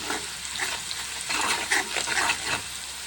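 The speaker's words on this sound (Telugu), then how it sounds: "పసుపు వేసుకొని మంచిగా కలుపుకోవాలి" Onions and green chillies fry in oil with turmeric as they are stirred, giving a soft, close sizzle with a few brief scraping strokes over about three seconds, with no voice.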